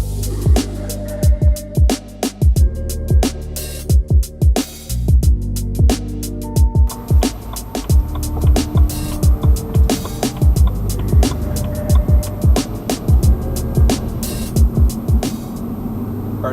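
Car driving along a smooth road at night, picked up by a budget dash cam's built-in microphone inside the cabin: steady road and engine rumble with frequent sharp ticking clicks throughout, no talking.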